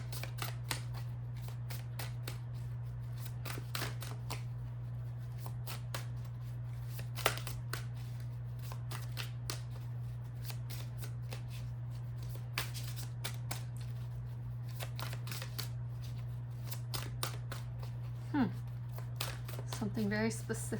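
Tarot cards being shuffled by hand, a run of soft papery riffles and taps over a steady low hum, with a voice briefly toward the end.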